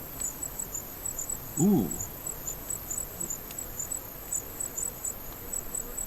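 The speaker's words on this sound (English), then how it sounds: "The crickets are a little bit high-pitched." Crickets chirp steadily in a high, thin pulsing rhythm throughout a night scene in an indie video game, with a brief low murmur from a voice near the middle.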